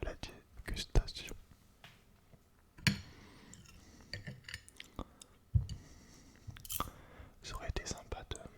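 Close, wet chewing of meatballs in an ASMR eating session, with irregular bites, faint cutlery and dish clinks, and soft whispered talk between mouthfuls.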